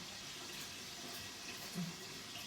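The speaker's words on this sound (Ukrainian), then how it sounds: "І залиємо олію. Заливаємо." Cooking oil pours into a pan as a faint, soft, continuous trickle that lasts a couple of seconds in a quiet kitchen.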